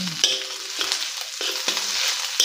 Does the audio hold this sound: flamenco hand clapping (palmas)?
no